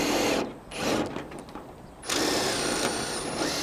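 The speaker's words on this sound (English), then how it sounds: "And you only want to just drill that down" A power drill drives a screw into a translucent plastic roofing sheet, loud whirring bursts at the start and end with a quieter ratcheting stretch between, close up.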